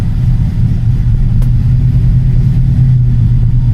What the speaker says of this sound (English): So you can hear, like I said, at idle, she's just rumbling, like she sounds good.